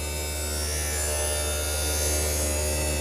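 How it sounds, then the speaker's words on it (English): A lens edging machine cutting the rough shape of a prescription sunglasses lens with water and a high-powered wheel gives off a steady, close mechanical buzz and hum that holds level throughout. "the machine uses water and a high powered wheel"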